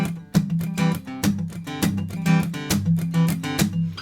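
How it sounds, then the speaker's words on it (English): Acoustic guitar strummed in a tight, percussive rhythm, with sharp muted chops accenting the beat between ringing chords, close and steady. "the song has a really percussive type of strumming pattern to it."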